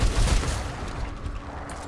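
Rapid AK rifle fire in the video game Remnant 2, a dense burst of close, loud shots running throughout, heaviest at the start and thinning slightly toward the end.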